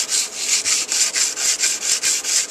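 A bolo machete is drawn over a washboard to sharpen it, giving about ten close, steady rasping strokes in an even back-and-forth rhythm.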